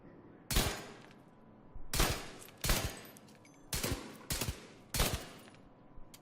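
Pistol gunfire in The Division 2 video game: six sharp, loud single shots spaced irregularly about a second apart, each with a brief decaying tail, over a low game ambience.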